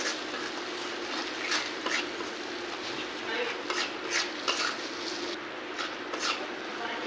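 Steady sizzling and crackling of prawns frying in a pan, close and continuous, with occasional utensil scrapes and a voice speaking over it.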